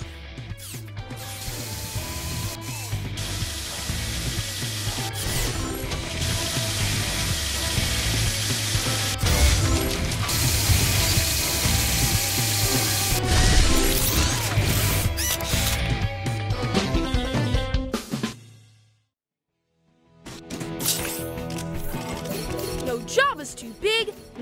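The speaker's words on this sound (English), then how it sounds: "Move this to place the drill." A drill whirs and ratchets in the PAW Patrol: The Movie - Adventure City Calls video game, a steady mechanical grinding mixed with loud game music, then a brief dropout before the sound resumes.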